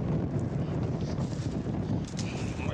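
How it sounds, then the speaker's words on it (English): Wind on a blustery day outdoors in Chicago buffets the microphone in a steady, rough rush with faint gusts throughout. "kind of windy today in Chicago"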